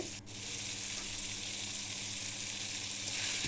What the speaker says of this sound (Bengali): এগুলোই আমি এখন সুন্দর করে কষিয়ে নিব